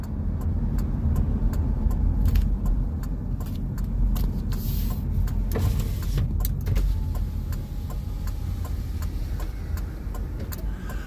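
Inside a car driving around the coastal town of Waldport, Oregon, a steady low engine and road rumble continues throughout, with scattered faint clicks and ticks from the cabin.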